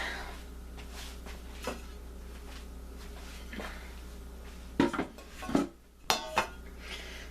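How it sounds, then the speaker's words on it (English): A pie crust being shifted onto a pie pan, making quiet rubbing and scraping with a few louder clinks and knocks of the pan near the end. "Now I'm going to move the pie crust onto the pie pan."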